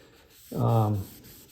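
A cloth rubs Minwax tung oil finish with hardener onto a guitar in a thin coat: one short, soft swipe that rises and fades over about half a second, nearby.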